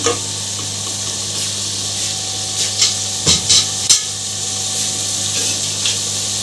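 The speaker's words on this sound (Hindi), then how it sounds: "जीरा, काली मिर्च और 1 दालचीनी। करेंगे और अब फ्राई करूँगी।" Whole cumin, black pepper and a cinnamon stick fry in oil for a potato chicken broth, a steady low sizzle with a few sharp scrapes and taps of a spoon in the middle.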